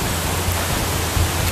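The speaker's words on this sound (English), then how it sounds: "endless waterfall." Mancar Sebako waterfall in Borneo gives a steady, dense roar of rushing water, loud and unbroken throughout with no voices.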